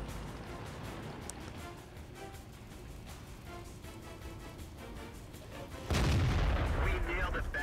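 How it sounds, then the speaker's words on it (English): Artillery fire in World of Tanks, a distant rumble of shots through a busy battle bed, then one heavy boom near the end that jumps in loudness; someone talks faintly underneath. "Oh, there's the artillery."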